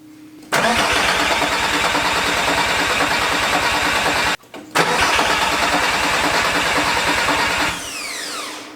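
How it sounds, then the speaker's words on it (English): An Audi 07K five-cylinder turbo engine swapped into a Porsche 944 cranks with injectors and ignition off, so it never fires: two long, loud bursts of steady rhythmic starter churn with a brief pause between, then a winding-down whir. "We are getting ready to crank the engine for the first time to make sure we have oil pressure."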